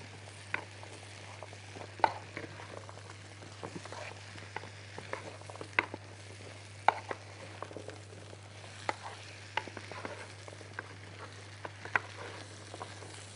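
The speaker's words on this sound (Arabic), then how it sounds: "هبتدي ان انا اشوحه بقى كده في معلقة الزبدة الظريفة دي" Potatoes sautéing in a spoonful of butter in a pan give a soft, steady sizzle with scattered pops and stirring clicks, close and moderately quiet, with no talk.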